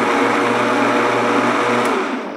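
A blender whirs steadily at high speed mixing Dutch baby pancake batter, a loud continuous motor drone with no talking, winding down slightly at the end.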